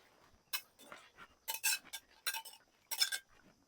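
Fried mourala fish drop into a metal pot of boiled green mango, with a few crisp clinks and scrapes of a utensil against the pot in short bursts, close and fairly quiet.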